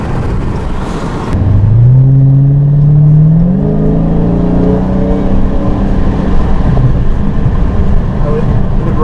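A Dodge Hellcat V8 accelerates hard, its engine note sweeping steadily upward through gear changes, loud and close inside the car, with people talking over it.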